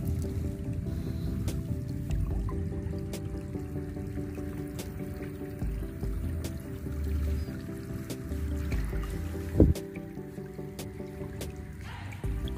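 Muddy water is scooped and bailed out of an eel-fishing spot, giving soft squishing splashes and drips in a steady, close rhythm, with one sharper slosh near the end and no talking.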